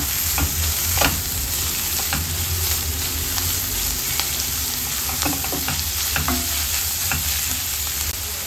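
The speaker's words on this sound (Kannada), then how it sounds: "ರುಚಿಗೆ ತಕ್ಕಷ್ಟು ಉಪ್ಪು ಪುಡಿಯನ್ನು ಸೇರಿಸ್ಕೊಂಡು ಫ್ರೈ ಮಾಡ್ಕೊಳ್ಳೋಣ." Frying with salt stirred in, a loud continuous sizzle with repeated scraping and tapping of a spoon against the pan at an uneven pace, close and alone without any voices.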